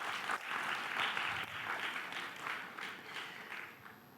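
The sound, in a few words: audience applause at a conference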